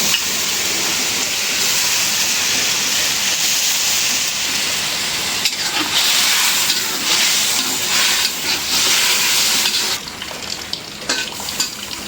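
Shing fish frying with spices in a pan during a rainy day, a loud, steady sizzle and hiss that runs throughout, with stirring scrapes and softer crackling toward the end, no talking.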